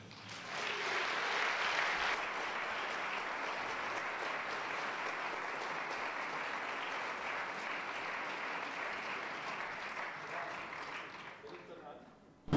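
A lecture audience gives a speaker long, sustained applause, a thick wash of many hands clapping that swells quickly, holds steady for about ten seconds, then thins out with voices mixed in.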